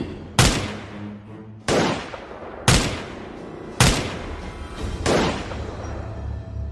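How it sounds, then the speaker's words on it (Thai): Five loud blasts from many guns firing together crack out at roughly even intervals, each followed by a rolling echo and a lingering rumble. "เสียงปืนทุกกระบอกก็ดังขึ้นกับปนาดทันที"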